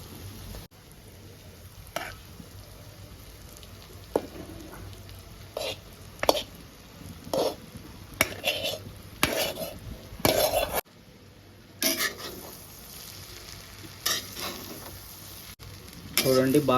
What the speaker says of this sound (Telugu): చూడండి బాగా కలదిప్పుకోవాలి.